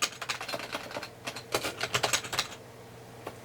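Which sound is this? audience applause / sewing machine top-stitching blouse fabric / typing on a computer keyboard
typing on a computer keyboard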